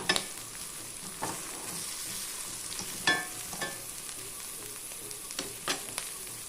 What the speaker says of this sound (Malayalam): ഇനി കുറച്ച് കറിവേപ്പിലയും കൂടെ ചേർത്ത് കൊടുക്കാം നന്നായി ഒന്നും കൂടെ മുരിഞ്ഞ് വരട്ടെ